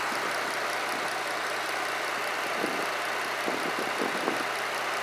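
A car engine idles steadily with a slight shake after an intake valve and turbo cleaning, a low, even rumble with faint irregular knocks, heard close in hot outdoor air with no talking.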